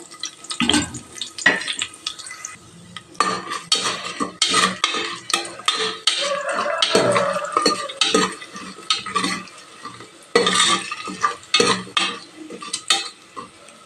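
Cumin seeds fry in a pan while a spoon stirs them, with repeated close scraping and clinking strokes over a light crackling sizzle and no talking.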